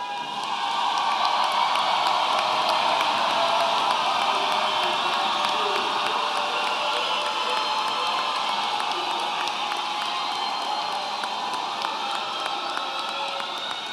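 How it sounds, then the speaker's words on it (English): Graduates at a fall 2021 commencement ceremony applaud and cheer in a large crowd, a dense, steady roar of clapping and whoops that stays loud and sustained throughout. "Give yourself a big round of applause."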